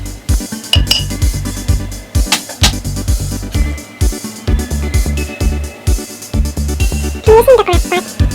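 Mussels being cleaned by hand knock and clink together in quick bursts, loud and close, with a sink or bowl clatter and no voices.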